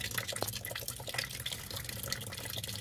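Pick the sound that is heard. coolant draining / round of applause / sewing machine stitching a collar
coolant draining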